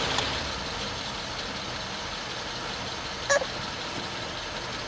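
Engine of a 1949 Meteor car running at a low steady idle, a faint even rumble with a brief metallic clink partway through.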